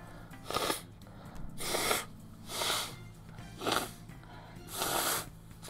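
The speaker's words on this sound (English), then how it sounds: "Sorry, I'm blowing my nose." A person blows their nose in five separate forceful, breathy honks, evenly spaced and close to the microphone, with no talking in between.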